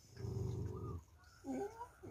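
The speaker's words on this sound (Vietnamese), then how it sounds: "Đàn cún lớn, đàn cún nhỏ," Dogs and puppies whimper and whine in short, fairly faint bursts, with a low rumbling note under the first cries and higher whines following after a pause.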